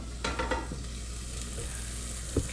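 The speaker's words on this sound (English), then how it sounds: "It's actually frying in there, but just not in a bunch of oil." Chicken tenders fry in an air fryer, giving a steady soft sizzle with a few faint clicks and a brief knock near the end, quiet and without talking.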